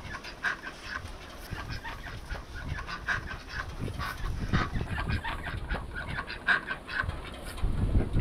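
A flock of ducks being driven into a pen in rural Vietnam, a dense, continuous mix of quacking and honking calls at close range, with no clear speech.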